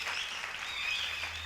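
A church congregation applauds in a dense, steady patter of many hands clapping at once, filling the room without a break.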